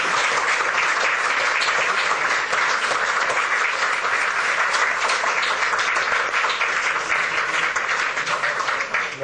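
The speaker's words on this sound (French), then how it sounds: "les applaudissements qui ont suivi après l'intervention de Madame la Présidente Mariam Rajavi" Sustained applause fills a hall after Maryam Rajavi's address at a Senate meeting in support of Ashraf, a dense, steady clapping of a large audience holding loud and even throughout, with no voices above it.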